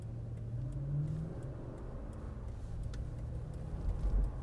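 A 2019 Lexus GX 460 SUV in sport mode accelerating through a left turn, a low, steady engine drone heard from the cabin with faint ticking and a slight swell near the end.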